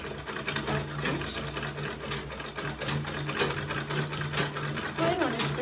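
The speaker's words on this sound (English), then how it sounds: "I'm going to take it to the sewing machine." A sewing machine runs in a fast, even mechanical chatter as it stitches Ankara fabric joined to leather, with a brief voice near the end.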